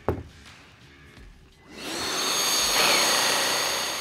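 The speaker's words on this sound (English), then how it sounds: "You can also attach this cordless mobile dust extractor." A Bosch cordless mobile dust extractor with HEPA filter, paired with a Bosch Bulldog cordless rotary hammer, switches on after a brief clunk and spins up into a loud, steady whooshing roar that holds to the end.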